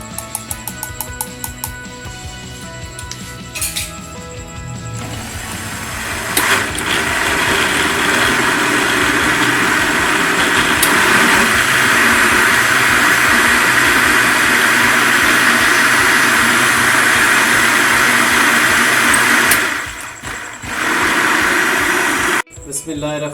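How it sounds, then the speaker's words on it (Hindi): An electric kitchen grinder whirs loudly and steadily for around fifteen seconds while blending an Oreo cake batter of crushed Oreo biscuits and milk, starting after some talk and cutting off abruptly before more speech. "अब इसको फिर ग्राइंड करेंगे।"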